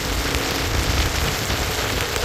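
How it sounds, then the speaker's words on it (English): Steady rain drums on a boat, a dense, continuous hiss and patter with no pauses, close and fairly loud throughout. "so we got some rain now"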